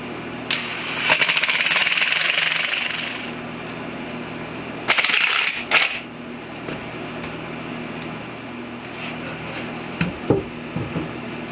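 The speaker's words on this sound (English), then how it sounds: "just drive my screws in" A power drill drives screws into wooden strips on a rustic farmhouse dining chair, with two loud, close whirring bursts of a few seconds each, then quieter shop sounds and small clicks.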